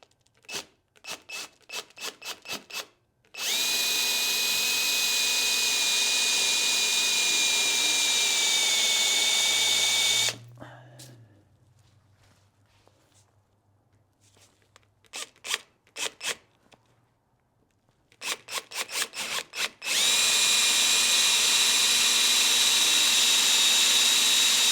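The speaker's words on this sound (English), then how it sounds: "I'm just going to kind of randomly drill." A power drill drills into dry-rotted, cracked wood in two long, loud runs, each preceded by rapid clicking, with quieter handling noises and pauses between.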